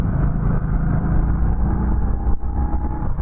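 A 2020 Indian Scout Bobber Sixty motorcycle cruises at about 3,000 RPM and 45 mph, its engine a steady, loud, continuous low drone with wind rush and no talking.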